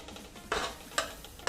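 Ginger garlic paste with mustard seeds, cumin and curry leaves frying in a pan (kadhai), soft sizzling under three distinct scraping stirs of a spoon, close and fairly quiet.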